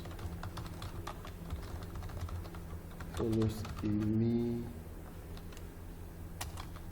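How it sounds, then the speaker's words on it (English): Keys clatter on a computer keyboard in a fast, steady run of light clicks. A voice speaks briefly midway, and the typing carries on underneath and after it. "let's type the reception stuff first"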